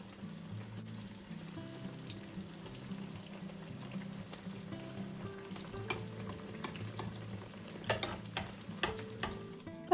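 Food for a soft breakfast recipe frying in oil, a steady low crackling sizzle throughout with a few sharper pops and taps of utensils toward the end, moderately close and without talk.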